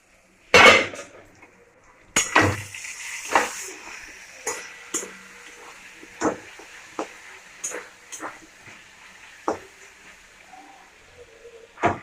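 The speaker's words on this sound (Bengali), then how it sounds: "মেথি শাক রান্না হচ্ছে।" Pots and metal utensils clatter while fenugreek greens cook in a home kitchen: one loud bang, then scattered scrapes, knocks and clinks at irregular intervals, close by and with no talking.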